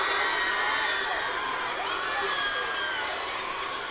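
A concert crowd shouts and cheers at a live show, with whoops and high-pitched screams forming a steady, dense roar throughout.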